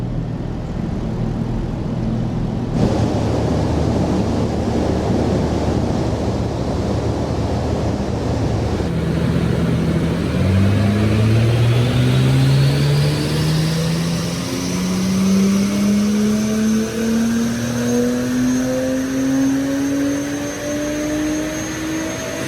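A 500-horsepower V6 in a Vauxhall Adam VXR revs up on a dyno. The engine tone climbs steadily in pitch and is sustained loud and close over a constant roar of rushing air, with no talking.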